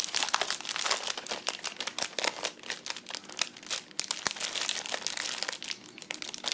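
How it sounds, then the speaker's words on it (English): Plastic wrapping crinkles and rustles continuously up close as a plastic cover is removed from stationery, with sharp crackling bursts throughout. "Sorry for the plastic noise."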